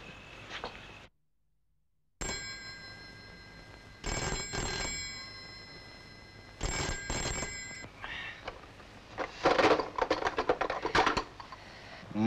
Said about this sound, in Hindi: पटेल, अरे ये भी वक्त था फोन करने का, बोलो क्या बात है?